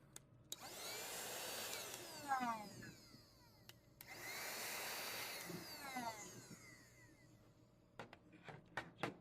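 A handheld vacuum/blower used for cleaning 3D prints whirs up in two long roaring bursts, each spinning down, followed by a few short clicks and taps in a quiet room.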